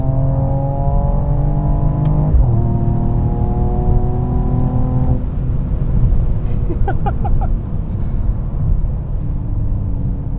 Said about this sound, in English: Race mode launch. Let's go. Hard shifts.